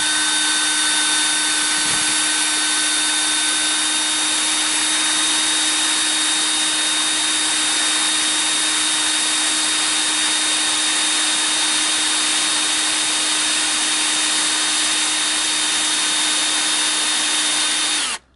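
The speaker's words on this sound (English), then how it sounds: "we're going to drill a hole. This is in the seal itself." A drill bores steadily into an early-type transmission seal, one long, loud, unbroken high whine held close for the whole stretch before cutting off abruptly at the end.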